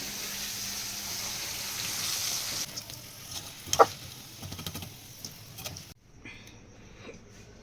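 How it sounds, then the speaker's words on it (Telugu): Bitter gourd pieces frying in hot oil give a continuous close sizzle and crackle with occasional sharp pops and clicks, easing to a quieter hiss after a brief drop near the end. "కొన్ని కొన్ని వేసుకోండి, మంచిగా కాలుతాయి."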